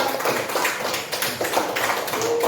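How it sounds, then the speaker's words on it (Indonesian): A classroom full of primary-school children clapping at once, a dense, continuous patter of applause that holds steady throughout. "Kasih tepuk tangan dulu untuk kelompok 3"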